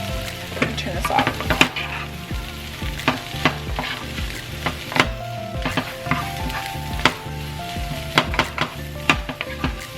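Brussels sprouts sizzle softly in a pan on the stove, with repeated clinks and scrapes of a utensil stirring against the pan. The sound is close and steady, with no talk.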